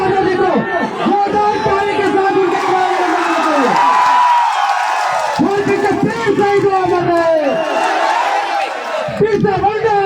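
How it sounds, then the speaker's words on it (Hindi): A large outdoor political rally crowd in Dumri, Giridih, Jharkhand cheers and shouts loudly, with bursts of applause and chanted slogans swelling and dipping continuously throughout, close and dense. "जोरदार ताली के साथ"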